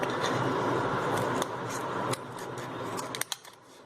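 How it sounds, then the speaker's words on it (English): Scissors snip along a marked line on a plastic sheet, giving a steady close scratchy cutting sound with a few sharp clicks near the end. "First just cut along the lower line, kind of a mark on the plastic, and then just cut out"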